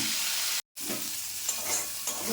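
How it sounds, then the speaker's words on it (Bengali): Okra and pointed gourd fry in a pan with a steady, close hiss of oil, broken by a brief gap of silence and a few soft stirring clinks. "তো চলুন ঢ্যাঁড়সটা পটলটা একবারে একটু ভেজে নিই"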